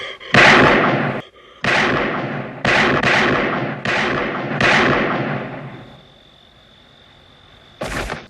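Gunshots in the 1981 horror film Halloween II: about six loud, booming revolver shots spaced roughly a second apart, with a ringing tail between them, then a pause and one final blast.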